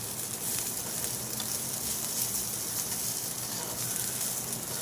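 Food sizzling steadily in a frying pan on a gas stove, a continuous crackling hiss at moderate level throughout with no pauses.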